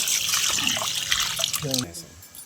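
Rice being rinsed in water at a kitchen sink while cooking soybean-paneer rice, with steady running and splashing water throughout, small clinks near the end, close and moderately loud.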